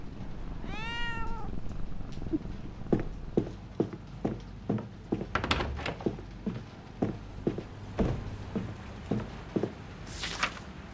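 A cat in a video game gives one drawn-out meow at the start, followed by a run of regular footstep-like knocks and a burst of noise near the end.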